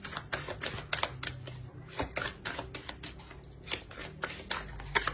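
Tarot cards are drawn and laid out in quick, close succession, making crisp rhythmic flicks and soft slaps of card stock against a surface, with no talking.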